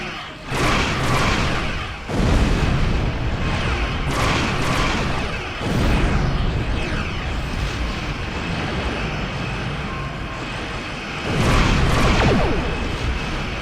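Starship weapons fire in Star Trek Online during a Romulan-era space battle, loud booming volleys and impacts arriving in several separate bursts over a continuous engine-like roar.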